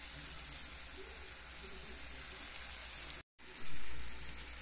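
Potatoes sautéing in a pan, a continuous soft sizzle and crackle with faint scrapes as pieces are turned one by one, with a brief dropout near the end.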